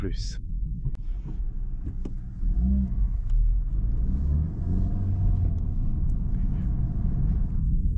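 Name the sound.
Honda Civic Type R engine accelerating in R+ mode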